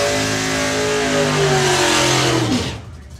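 Four-cylinder drag racing cars launch off the line at a doorslammer event, engines revving hard and loud up close for a couple of seconds before the roar drops away as they pull off down the strip.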